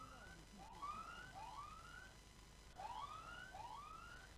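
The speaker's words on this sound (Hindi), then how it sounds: "साइरन हो चुका है" A siren wails at a cricket match ground in a free-hit moment, rising sweeps repeating in two bursts, moderately loud over steady crowd and stadium background noise, with no talk.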